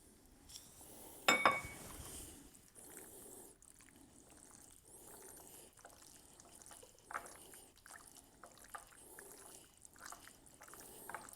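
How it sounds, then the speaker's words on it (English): Dressing poured and dripping onto steak tartare, soft liquid trickles and small wet drips with a brief louder splash near the start, close and quiet. "put in a bit more dressing"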